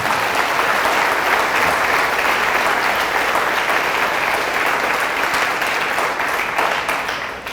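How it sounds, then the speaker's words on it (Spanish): Congregation applause during a Catholic church service, dense sustained clapping from many hands filling the space, steady throughout and tapering slightly at the end. "Fuertes aplausos a Jesús"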